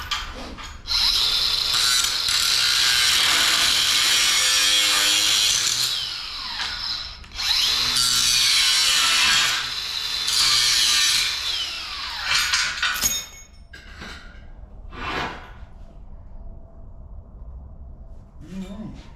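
Power tool grinds loudly in two long sustained bursts to free a poorly welded chain from a wrecked steel trailer, then gives way to metallic clanks and rattles, with talk nearby.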